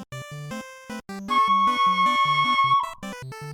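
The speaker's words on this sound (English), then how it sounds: "I'm gonna play the low C on a soprano ocarina, and it sounds like this." A soprano ocarina plays a low C, with all holes covered, as a steady, pure tone lasting about a second and a half over a rhythmic, beat-driven backing track.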